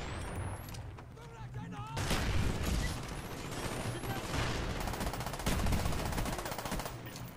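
Sustained FAMAS burst fire in the PC shooter Black Ops 1, loud, dense and continuous across the whole stretch, with distant battle noise and a faint voice underneath.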